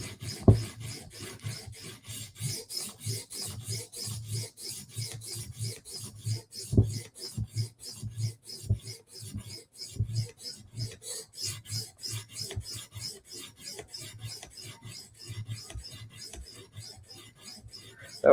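A knife is worked on a sharpening stone to remove a burr and reprofile the edge, giving steady, rhythmic rasping strokes that repeat quickly and evenly for a long stretch, close up with no talking.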